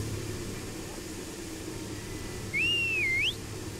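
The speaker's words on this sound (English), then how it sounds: "I added the whistle to my inventory" A whistle in Pumping Simulator 2 gives one short, clear rising-and-falling tone that lasts under a second. Quiet game ambience and a low hum run beneath it.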